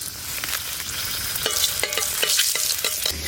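Dry red chillies sizzle in hot mustard oil in a pan for frying sattu, a steady close crackling hiss with scraping stir strokes over about three seconds and no voices.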